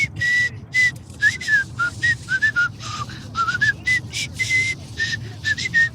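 Rapid, airy whistled chirps repeat in a quick, uneven stream, each short and breathy, with a low background rumble underneath.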